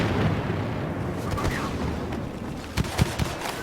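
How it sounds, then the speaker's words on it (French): Barrage fire pounds in a Star Wars Battlefront match as a stream of rumbling blasts and explosions. Sharper booms cluster near the end, all under dense battle noise. "On va remettre le tir de barrage."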